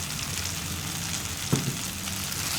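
Asafoetida stirred into a tomato chammanthi mixture frying in a pan gives a steady close sizzle, broken once by a brief clink of the spoon, with no talking.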